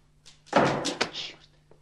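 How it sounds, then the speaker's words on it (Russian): A single door slams shut with a solid thud, followed by a brief rattle, fairly close and alone. "Что за дурацкая манера хлопать дверью?"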